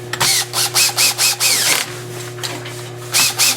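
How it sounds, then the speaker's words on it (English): A cordless drill with its clutch set drives screws into ski race bindings. Several short, loud whirring bursts stop and start in a steady rhythm, with brief pauses between them and no talking. "I've got the clutch set on the drill so I don't overpower the screw and strip it, and I will tighten by hand"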